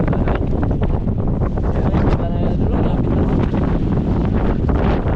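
Loud, steady wind from a typhoon roaring into the microphone, a constant buffeting rush that fills the whole clip.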